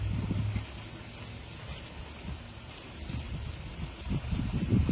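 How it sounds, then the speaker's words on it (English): Steady rain pattering on surfaces as a continuous hiss with soft low rumbles, even and unbroken, no voices. "there can be something beautiful about having the rain patter on your head"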